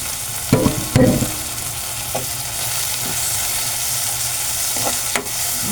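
Dried shrimp (hibis) sizzles steadily in a pan while being sautéed for ginisang sayote, a constant frying hiss with a few louder stirring scrapes and clatters near the start and end.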